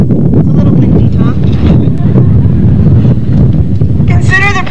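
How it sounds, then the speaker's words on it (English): Wind buffeting a microphone during an outdoor law school graduation ceremony, heavy low rumbling gusts that muffle the setting, with a voice speaking briefly near the end. "It's a little windy, huh?"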